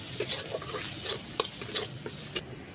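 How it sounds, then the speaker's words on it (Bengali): Turmeric frying in an oiled pan before poha goes in, stirred briskly with repeated spoon scrapes and clicks over a steady sizzle, close and fairly loud, no one talking. "বন্ধুরা হলুদটা দেওয়ার পরে ভালো করে ভেজে নিয়েছি"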